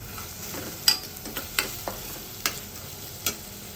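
Tomato cooks in a pan for a sprouts curry, a soft, low sizzle broken by several sharp clicks and scrapes of a spoon stirring against the pan.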